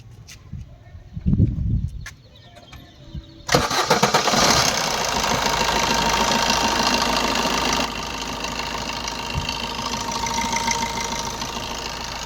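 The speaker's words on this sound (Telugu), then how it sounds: "ఇంజన్ అయితే స్టార్ట్ చేసి చూపిస్తాను" A Maruti Suzuki Swift Dzire (2012–2015, timing-chain engine, 134,000 km) cranks and catches after a few seconds of quiet, then settles into a steady, close idle that continues evenly to the end.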